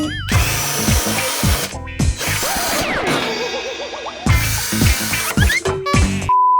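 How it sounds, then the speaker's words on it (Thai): Power drill boring a hole into a cream storage cabinet during a home DIY job, loud whining bursts that start and stop repeatedly with short pauses, close up and alone. "หลังจากที่เจาะใหม่แล้วอีกหนึ่งรูนะครับ"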